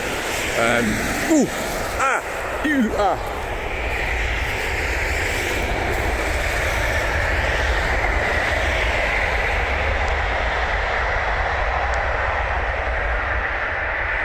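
A train rumbles past on a busy railway nearby in a loud, steady roar that holds throughout, with a few squeaky chirps early on.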